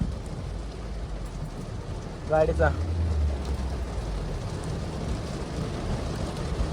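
Steady rain drums on a car throughout, a dense even wash of drops close by, with a short burst of talk partway through.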